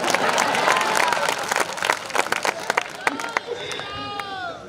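A poetry recital (kavi sammelan) audience in Sehore bursts into dense clapping that thins into scattered claps and crowd murmur, with a voice coming through toward the end.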